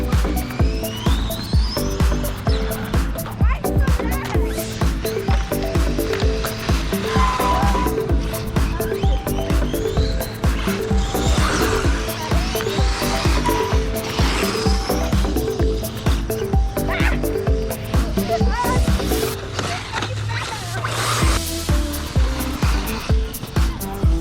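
A 1/10 Redcat Tornado RC buggy on Bandito tires whines and buzzes continuously as it drives hard, its motor pitch rising and falling with quick bursts and scrabbling tire noise, loud and close under a dense wash of background sound.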